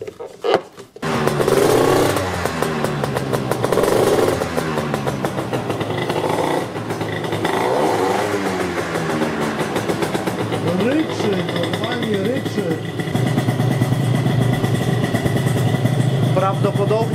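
An Italjet Dragster 180cc scooter engine is ridden, running loud and continuous with rising and falling pitch as it accelerates along the road, with a voice talking over it throughout.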